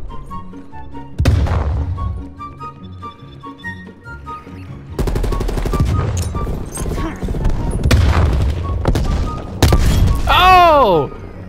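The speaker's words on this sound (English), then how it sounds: "That nade actually killed that dude?" Bursts and thumps of gunfire and explosions in Call of Duty: Cold War, among them a grenade blast, sound across a busy match, with players talking loudly over the action.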